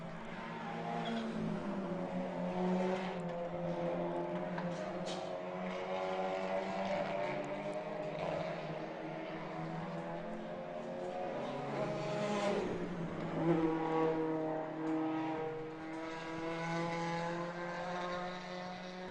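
Race cars at Shannonville Motorsport Park, including a Honda, pass in a continuous rising and falling engine drone, heard at a moderate distance with no talk over it.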